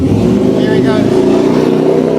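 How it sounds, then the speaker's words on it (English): A noisy motorcycle engine revs close behind a car driving along a busy Pattaya street, a loud, continuous engine drone filling the whole stretch without pause. "Got a noisy bike behind me"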